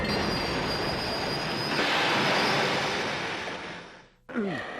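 A train rumbles past loudly and steadily, with wheels squealing over the roar before it cuts off abruptly near the end.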